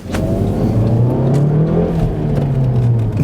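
An Audi S1 hatchback accelerates hard from inside the cabin, its engine note climbing steadily in a loud, continuous rising drone with a whirring tone for a few seconds.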